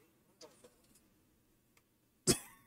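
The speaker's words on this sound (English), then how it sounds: "Excuse the coughing." A person coughs aboard a small plane on a coastal flight over Oregon, a few faint earlier throat sounds followed by one sharp, loud cough near the end, close to the microphone.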